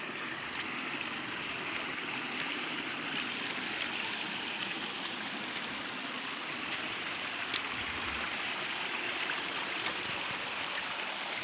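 Creek water that supplies the rice field below flows in a steady, even rush of moderate volume with no voices.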